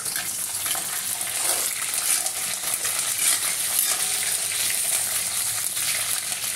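Mustard seeds, cumin, chana dal, curry leaves and dried red chillies fry in hot oil for a curry, a continuous close crackling sizzle with popping seeds and a few faint stirring clinks.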